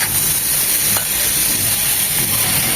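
Onion, garlic and tomato frying in a pan with red chilli powder and salt, a loud close continuous sizzle with stirring scrapes, no voices.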